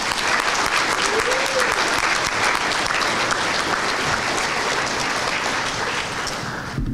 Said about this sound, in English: let's have one round of applause for all of our inductees tonight.